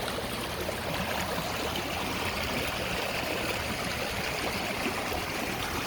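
Floodwater rushing like a river through a garden after heavy rain, a steady, dense hiss and gurgle of flowing water, constant and moderately close without any voices.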